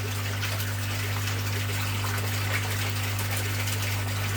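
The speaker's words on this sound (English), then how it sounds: "Then I'm going to change the water," Water runs steadily during an aquarium water change, a continuous rushing flow over a constant low electrical or pump hum, with no talking.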